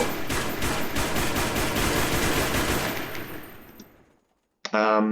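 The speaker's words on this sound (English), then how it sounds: "In terms of full auto, the E variant has a pretty high rate of fire." An FG42 E variant rifle fires a long full-auto burst in a video game, rapid evenly spaced loud shots that fade into a decaying echo, followed by silence and then a brief voice.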